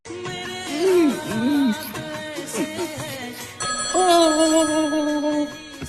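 A mobile phone ringtone plays loudly and continuously, a bright, warbling electronic melody that repeats its phrase with a short break in the middle, with no talking over it.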